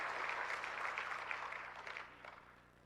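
Applause from the audience at the Kadin Rapimnas 2024 gathering: dense, continuous clapping that holds steady for a few seconds, then gradually thins and fades away, with no voices heard above it.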